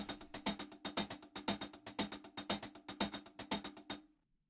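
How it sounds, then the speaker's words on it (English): A programmed acoustic hi-hat loop plays a steady, fast pattern of crisp, bright closed hits with accented openings, repeating evenly for about four seconds before ending cleanly. "So altogether, my hi-hat loop sounds like this."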